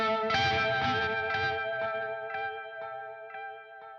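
An electric guitar played through phaser and delay effects rings out in a loud, sustained chord, then fades through a series of evenly spaced echo repeats with a swirling, shifting tone and no talking.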